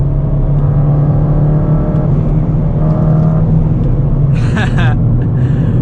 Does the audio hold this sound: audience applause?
no